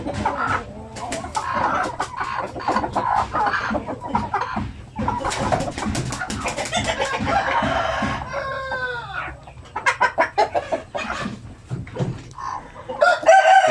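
Native Zampi chickens in a breeding pen cluck busily while a rooster crows nearby, with bursts of loud overlapping calls and squawks filling the yard.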